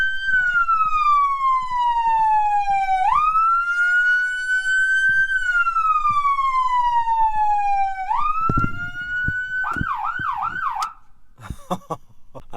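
Police car siren heard from outside the vehicle, very loud and close, cycling through long rising-and-falling wails before switching to a rapid yelp, then cutting off into scattered clatter.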